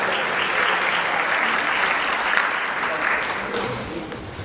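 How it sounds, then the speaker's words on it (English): An audience claps in sustained applause at a Trinidad and Tobago independence celebration in New York City, a dense, steady wash of many hands that tapers off near the end. "Give her a round of applause."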